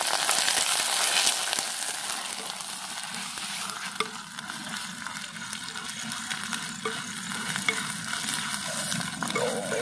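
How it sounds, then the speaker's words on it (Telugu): Ginger garlic paste stirs and fries in a hot pan, giving a steady, close sizzle with a continuous scraping of the spoon through the paste. "ఇప్పుడైతే మనం అల్లం వెల్లుల్లి పేస్ట్ వేసుకుందాం. చూడండి, కలుపుకుందాం."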